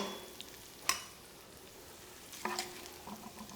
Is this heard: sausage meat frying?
yes